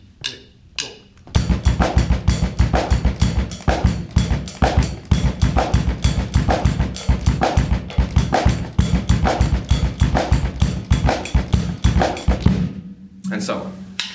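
A drum kit plays a fast double bass drum triplet groove, with dense, rapid kick strokes under accented hand hits that suggest a backbeat. A few sparse hits lead in before the groove runs steadily, then it stops near the end.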